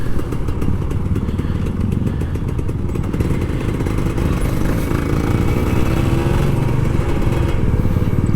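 A Kawasaki Ninja RR 150 two-stroke motorcycle engine revs loudly and steadily up close, with a rough, buzzing drone and rattly clatter throughout, no voices heard.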